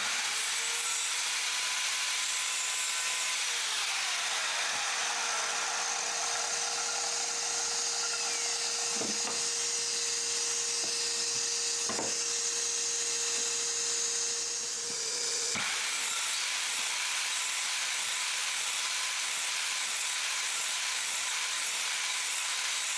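A power saw cuts a wooden 2x2 with a continuous hissing whine for about fifteen seconds. A few sharp knocks come partway through, then a short break before the saw runs on at a steady level.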